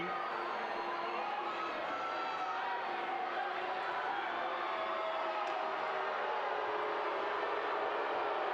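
Hockey arena crowd at a Carolina Thunderbirds at Binghamton Black Bears game, a steady dense roar of many voices grumbling and jeering in disapproval after a play, continuous and moderately loud throughout.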